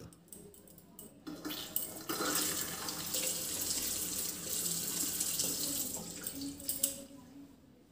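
Water runs from a tap into a sink basin in a steady hiss, starting after a few faint knocks and then flowing continuously before thinning out near the end, with no speech over it.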